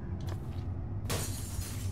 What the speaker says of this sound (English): Is that the glass breaking that I'm hearing?